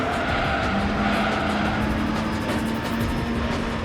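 A Mazda NA Miata engine in Gran Turismo 3 drones at a steady, sustained pitch with a rising tone, loud and constant, with tire and road noise beneath it.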